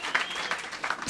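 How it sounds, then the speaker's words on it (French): A stand-up roast audience claps in a short burst of moderate applause with a few sharper claps standing out, lasting about a second. "Allez-y, applaudissez, applaudissez."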